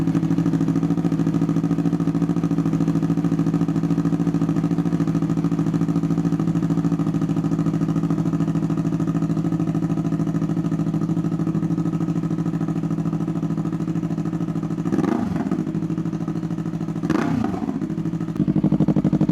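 A motorcycle fitted with a $100 SC Project eBay exhaust idles with a steady, throaty drone, then two short throttle blips come near the end, close and fairly loud, with no talking.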